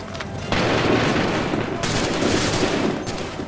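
Musket volleys in an Assassin's Creed 3 battle at Lexington: loud, dense crackling bursts of massed gunfire that surge in twice and roll on continuously, close and booming.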